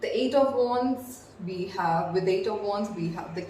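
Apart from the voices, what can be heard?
No everyday noises stand out.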